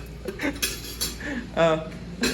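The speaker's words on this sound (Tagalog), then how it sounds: "Kanya-kanya tayong kuha pinggan" Plates and cutlery clink and clatter as people serve themselves at a hotel meal, scattered sharp clinks in irregular bursts under nearby conversation.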